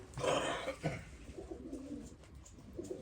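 Breeding pigeons coo softly inside their coop, a few low throaty calls up close with quieter rustling between them.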